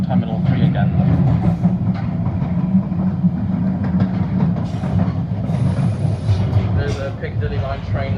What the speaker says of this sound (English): There's a Piccadilly Line train possibly going to Heathrow, by the looks of it.